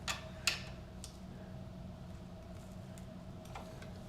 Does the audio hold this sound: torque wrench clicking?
yes